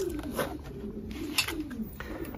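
Racing pigeons coo in a loft, several soft throaty coos repeating in a steady rolling rhythm at close range against a low background hum.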